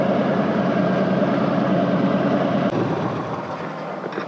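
A Harley-Davidson motorcycle engine roars loud and close with a steady rumble, then shifts and tapers slightly as the bike moves on, with no voices.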